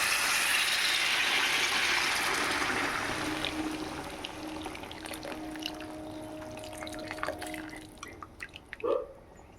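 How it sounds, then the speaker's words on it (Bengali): Hot water pours into a pan of potato and cauliflower curry, a loud, close gushing splash that tapers into a sizzling bubble and a few faint drips and clinks. "এবার এখানে গরম করে রাখা জল"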